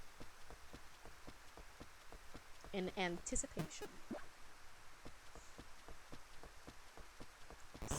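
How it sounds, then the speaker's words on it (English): Steady rain patters in the video game Rune Factory, a soft constant hiss dotted with drop ticks, and a short phrase of chimes or vocal sound rises briefly over it. "Oh, it's raining!"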